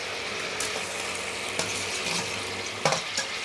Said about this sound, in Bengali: এবার আমি একটু ফুলকপি আর আলু সেটা ভেজে রেখেছিলাম, এটি দিয়ে দিচ্ছি